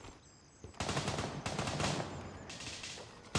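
A rifle magazine emptied in rapid automatic fire in the Gray Zone Warfare video game, a dense continuous burst of shots over about three seconds, loud and alone.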